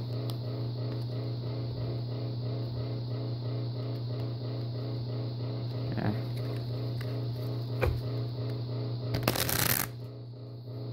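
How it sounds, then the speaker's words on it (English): Deck of playing cards ripple-shuffled by the corners, a quiet, even riffling patter that runs through the clip, ending in a brief loud burst of cards snapping together near the end. "this is also a ripple shuffle, but this is like a different way of doing it with the corners"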